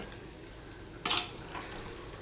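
A spoon scrapes through a garam masala mixture in a cooking pot for leafy-greens palav, one quick clatter-and-stir burst over a faint steady sizzle, close and brief.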